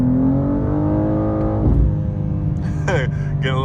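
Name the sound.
BMW M2 accelerating in second gear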